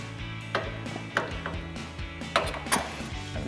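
A large adjustable wrench twists loose an inner tie rod on a Toyota 4Runner, giving several sharp metallic clicks and knocks over a low rumble, heard close and fairly quiet.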